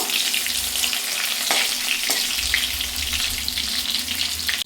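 Pointed gourd pieces sizzle steadily in hot oil, a bright crackling hiss close by, with a couple of brief utensil clicks and no voices.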